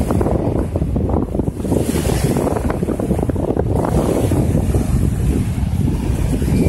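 Strong wind buffets an outdoor seaside spot, roaring continuously and loudly across the microphone with gusty swells, no speech.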